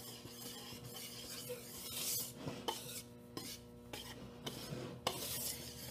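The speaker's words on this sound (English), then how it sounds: "we're gonna take all of our dry ingredients and we're just going to whisk them together" A whisk scrapes and rasps through dry shortbread ingredients in a bowl, with gritty strokes and occasional sharp ticks against the bowl's side, fairly close and unaccompanied by voices.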